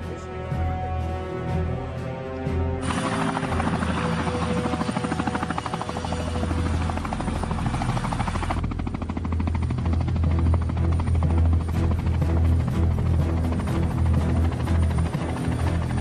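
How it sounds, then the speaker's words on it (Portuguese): In a dubbed action film scene, a helicopter hovering over buoys drones steadily and loudly throughout, its rotor giving a deep rhythmic thump and a bright engine whine joining partway. "Mantenha o helicóptero em cima das boias."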